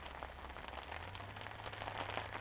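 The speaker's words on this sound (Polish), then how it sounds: "Deszcz na zewnątrz pada." Rain falling outside an ice-fishing shelter, a faint steady patter of drops on the surface with a low hum underneath, continuous throughout.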